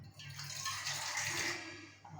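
Water poured into a cooking pot of special sambar with dal and sambar masala, a steady close splashing pour that runs throughout and tails off near the end, with no talk.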